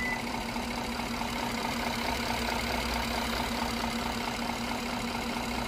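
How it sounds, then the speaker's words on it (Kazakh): A 5-litre V8 petrol engine in a 2019–2020 Genesis G90L AWD limousine idles, giving a steady, smooth low hum with an even mechanical drone and no voices. "Объемы V8 цилиндрлі 8 сатылы 5 литр бензиннің дауысын қараңыздар."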